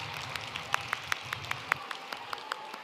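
Sparse, fairly faint clapping from an audience welcoming a children's gymnastics group at an indoor hall, individual claps spaced out rather than full applause.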